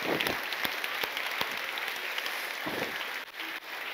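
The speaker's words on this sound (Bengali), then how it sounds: "জোরে আমরা একবার প্রভুর জন্য করতালি দিই" Congregation at a Bengali church sermon clapping together for the Lord, a dense sustained wash of applause with a few sharper claps standing out, dipping briefly near the end.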